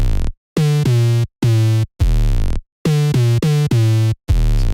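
A deep, heavy 808 bass for a moombahton track plays a sequence of sustained notes with short gaps between them, loud and buzzy, some notes sliding in pitch.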